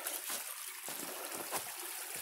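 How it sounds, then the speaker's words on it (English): Water in Richland Creek trickles and splashes faintly at a distance, a soft steady flow with a few brief bursts and no talk. "Coming up on a creek right now."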